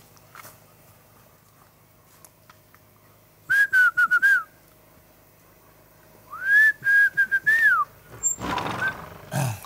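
A person whistles a tune to call someone, two bursts of rising and falling melodic whistling that stand out loud and clear over a quiet outdoor background, ending in some rustling.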